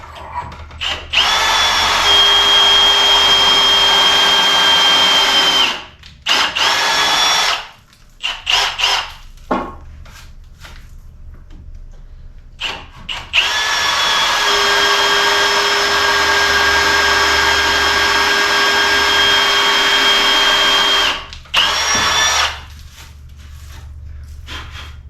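A power drill bores into wood while floating shelves are built. The motor whines loudly and up close in two long bursts, broken by short pauses and brief trigger taps.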